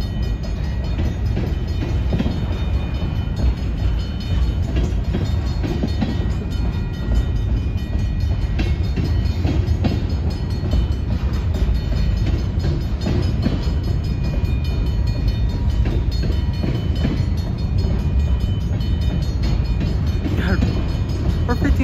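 A Union Pacific Railroad freight train rolls past at a grade crossing in Algona, Iowa, a loud and steady rumble with wheel clatter that holds close and unbroken the whole time.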